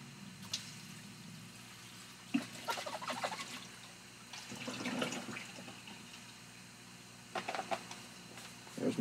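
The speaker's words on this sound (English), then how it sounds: "Rinse out the bottle." Water runs and splashes in bursts while a bottle is rinsed out at a sink, with several separate pours and quiet gaps between them.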